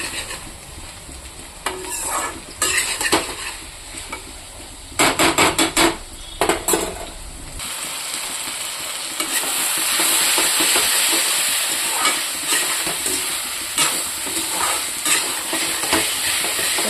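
Vegetable stalks and boiled potato fry in a pan with a constant sizzle, broken by sharp clanks and scrapes of a spatula stirring at close range, the hiss rising steadier toward the end.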